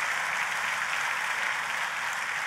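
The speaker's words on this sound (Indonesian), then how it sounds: "Tepuk tangannya boleh paling meriah buat Tuhan kita." A church congregation applauds together in steady, broad clapping that fills the space evenly from start to finish, close and fairly loud, with no voices rising above it.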